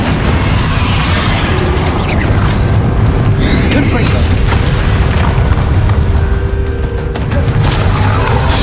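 Confringo fire-blast spell explosions in the video game Hogwarts Legacy, during a final battle, rumbling as dense continuous booms under a loud, constant wash of battle noise.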